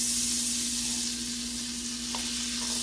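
Butter warms in a pan on a stove set to medium, giving a soft continuous sizzle over a steady low electrical hum, close and quiet with no voices.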